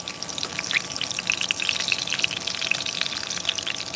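Dried fish (daing) fries in very hot cooking oil, a loud, dense crackling sizzle with rapid popping spatters that runs without a break. No one speaks.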